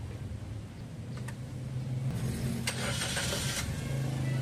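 A Suzuki Ertiga engine, showing shaking and misfire after overheating, cranks and catches partway through, then settles into a steady low idle rumble, close and without talk.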